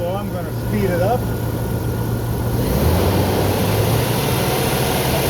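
A car engine idles with the headlights and blower motor switched on during an alternator test, then is revved up to a steady higher hum that holds, while someone talks briefly at the start.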